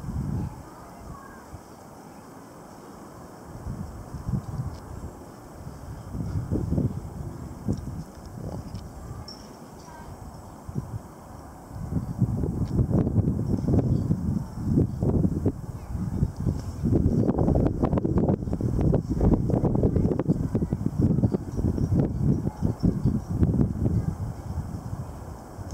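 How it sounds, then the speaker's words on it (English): Strong wind gusts during a windstorm batter the microphone with deep rumbling surges that come and go irregularly, growing heavier and more continuous in the second half. "when it happens, it's like, God, it's actually some decent gusts"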